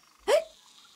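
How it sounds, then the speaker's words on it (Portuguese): A cartoonish hiccup from a frog character in a children's show, one short sharp gulping burst with a quick upward squeak, loud and close, then near silence. "preciso me livrar desse soluço"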